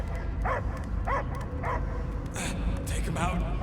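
Dog barking in the Guardians of the Galaxy video game, a few short yips and barks spaced out under a steady low game soundtrack, with voices talking over parts of it.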